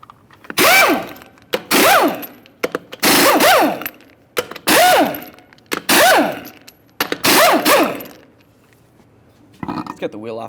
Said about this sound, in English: we'll remove all 6 of our 22mm lug nuts located behind it